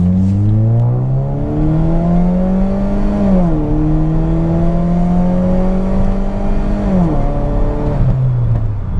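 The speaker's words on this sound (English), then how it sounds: "Every time you let off the gas in this car, it's just backfires." A Saab 9-3 with a Stage 3 tune pulls hard under acceleration, its engine note rising steadily, dropping at a shift and climbing again, loud and close with no talk.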